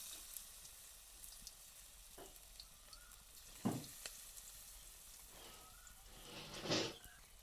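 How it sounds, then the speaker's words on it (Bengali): Pakoras frying in hot oil in a wok produce a quiet, steady sizzle, broken by a few louder bursts of bubbling and crackle as pieces go in or shift. "আমি ওখান থেকে পকোড়াগুলোকে তেলের মধ্যে ছেড়ে দিলাম।"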